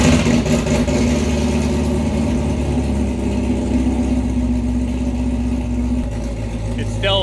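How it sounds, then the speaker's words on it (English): A Corvette Z06 with a new cam and supercharger idles fast and steady nearby, a loud continuous low rumble with a slightly choppy pulse throughout. "It's still kind of fast idling."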